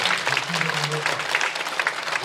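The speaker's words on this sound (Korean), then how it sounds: "우리 주님께 영광의 박수 드리겠습니다." A church congregation at a prayer service claps together in dense, sustained applause, with voices mixed in underneath.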